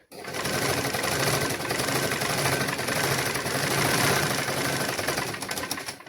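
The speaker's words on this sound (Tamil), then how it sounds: "அவசரப்படாமல் மெதுவாக தைச்சு கொண்டு வந்தீங்கன்னா உங்களோட தையல் வந்து நல்ல ஒரு நீட்டாக இருக்கும்" A sewing machine runs steadily while stitching a pillow cover, with a fast, even mechanical whir and clatter that holds a constant pace for about six seconds, close and loud, with no talk.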